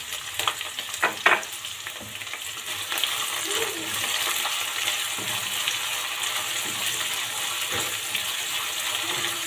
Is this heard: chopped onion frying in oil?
yes